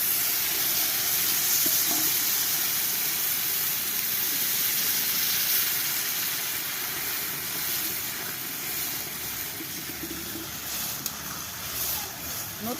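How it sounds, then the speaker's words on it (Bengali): Sour jujube water hitting a hot new pan while cooking a Bengali chutney with kohlrabi and jujube, a loud steady broadband sizzle and hiss that persists throughout, with a voice talking faintly over it. "কুলের টক জলটা আমি দিয়ে দিচ্ছি।"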